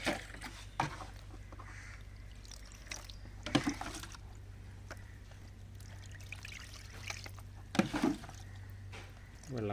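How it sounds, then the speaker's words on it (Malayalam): Water poured onto a sheet laid over a container, a few splashy trickling bursts over a steady low hum, fairly close, with no talking. "ഷീറ്റിലോട്ടാണ് വെള്ളം ഒഴിക്കണം."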